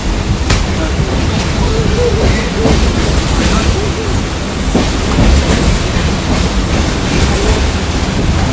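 An express train pulling into a railway platform, a loud continuous rumble with clattering wheels over the rails and faint squeals, while people talk and station announcements carry over it.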